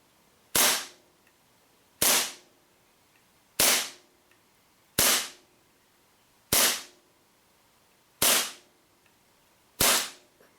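A WE Sig Mark 25 gas blowback airsoft pistol fired seven times at a steady, even pace, each shot a sharp, loud crack standing alone against a quiet background.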